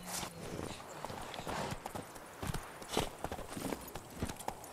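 Hooves of Geralt's horse Roach in The Witcher 3 clip-clop in an uneven walking rhythm, fairly close, over faint background ambience.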